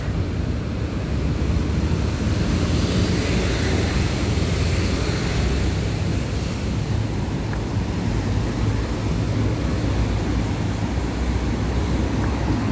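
Sea waves wash steadily along a seaside shore, a constant broadband roar mixed with wind buffeting the microphone, continuous and fairly loud with no speech.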